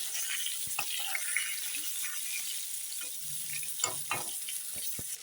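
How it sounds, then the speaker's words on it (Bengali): Eggplant slices fry in oil in a pan for a Bengali begun bahar, giving a steady close hiss with scattered light clicks and utensil taps, and no one speaks. "বেগুনগুলো দেখো অনেক কষ্ট করে আস্তে আস্তে ভেজে নিয়েছি"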